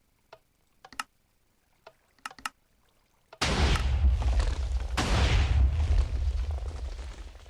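A Minecraft TNT cannon fires over and over, starting with a few sharp ticks and pops before erupting into a loud, sustained roar of repeated blasts that stays close and heavy for several seconds.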